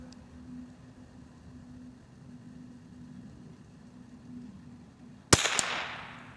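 A vintage .22 rifle firing match ammunition, one sharp, loud crack near the end of a quiet stretch, followed by a brief echoing tail.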